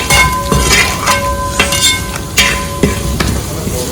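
Spice powders, including asafoetida, are stirred as they fry in a pan for rambutan pickle. A loud, close sizzle runs under repeated scraping strokes of a spoon, with a few light metallic clinks and no talking.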